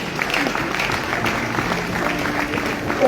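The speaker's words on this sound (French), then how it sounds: "Est-ce qu'on peut applaudir le Seigneur?" Church congregation clapping in praise of the Lord, a dense, steady patter of hands close by, with some voices mixed in.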